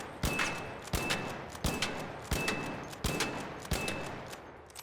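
Renegade rifle in the ARC Raiders video game fires six evenly spaced shots, each a sharp crack with a short ringing tail, about two-thirds of a second apart and clearly up close.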